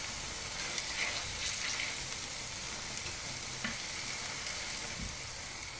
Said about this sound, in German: jetzt lasse ich sie quasi zu Ende braten